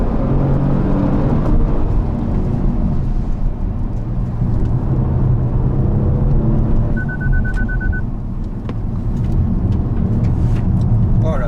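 Kia Stinger GT, an all-wheel-drive sports saloon, lapping a race circuit at speed: loud continuous engine drone and road roar from inside the cabin, with a brief voice over the top.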